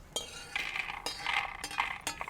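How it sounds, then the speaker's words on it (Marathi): Freshly roasted peanuts rattle and clink against a metal kadhai as they are stirred and tipped out, a close, continuous clatter with several sharper knocks. "आता कसा आवाज येतोय शेंगदाण्यांचा"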